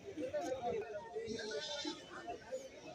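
Young goat kids bleat at an Indian goat market, several calls overlapping amid crowd chatter and voices close by.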